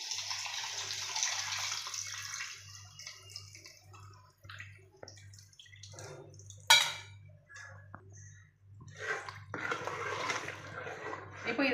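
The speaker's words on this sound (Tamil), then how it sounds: "ஸோ இப்போ புளி தண்ணி ஊற்றிக்கலாம்." Tamarind water pours and splashes into a pan of coconut fish curry in uneven bursts, with a low steady hum underneath and a sharp clink partway through.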